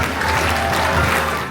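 Audience applause fills a theater aboard the Disney Destiny cruise ship at the end of a stage show, a steady dense wash of clapping heard close and fairly loud, with music or voices faintly underneath.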